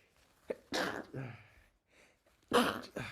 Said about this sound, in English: So, sorry, I'm sneezing.